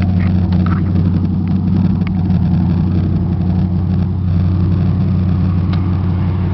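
A Dodge Caravan minivan's 3.3 V6 engine idles with a loud, steady low rumble and an even mechanical throb, running continuously without any revving.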